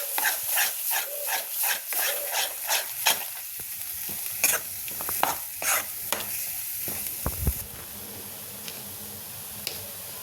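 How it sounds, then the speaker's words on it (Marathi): Spinach puree being stirred in a pan for garlicky dhaba-style palak paneer, a run of repeated scraping spoon strokes close up over a low sizzle, the strokes thinning out in the second half. "मी त्यामध्ये आपण जे पालकची प्युरी केली ती घालते त्याला छान आपल्याला हलवून घ्यायचं"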